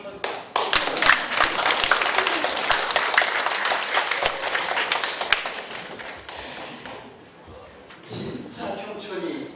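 An audience at a residents' meeting applauds, a burst of close, scattered clapping that fades partway and picks up again briefly, with voices heard in the background.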